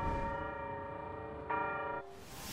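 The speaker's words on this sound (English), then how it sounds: "The bell has rung." A bell tolls in the video game Honkai Star Rail, one rich sustained strike with ringing overtones that swells again midway and then cuts off, leaving a soft airy hiss.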